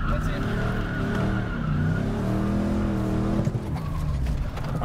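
A car spins donuts during stunt driving practice, its engine droning steadily with tire skid and squeal throughout, while people talk over it.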